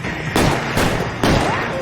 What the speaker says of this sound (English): This guy is firing at me, which to me means I have every right to fire at him.